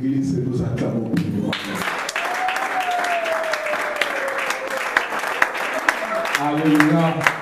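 A church congregation applauds in a steady, dense wash of clapping that fills the space, with a held voice or tone rising out of the crowd and speech at the start and end.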